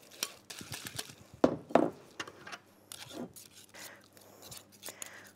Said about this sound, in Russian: Освобождаю здесь венчик от теста и чуть-чуть даже промну вилкой.